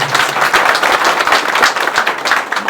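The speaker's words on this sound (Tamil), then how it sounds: "அவர்களை வருக வருக என இருக்கரம் கரகோஷம் எழுப்புமாறு அன்போடு கேட்டுக்கொள்கிறோம்" At a meeting in Ooty, a gathered audience claps loudly to welcome new members joining the organisation, producing brisk, close applause with distinct individual claps running throughout.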